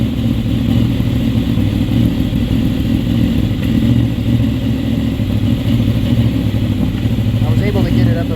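Honda VFR800 motorcycle engine running steadily up close after a new battery and regulator rectifier were fitted, loud and continuous, with a slight rise in revs; a voice is also present.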